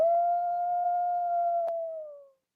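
A single wolf howl, a long sustained tonal cry that holds steady then slides down and fades out, heard clearly and alone.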